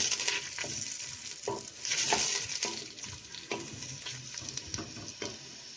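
Chopped onions frying in a cup of cooking oil for a mutton kachnar curry, a steady close sizzle with repeated stirring scrapes throughout.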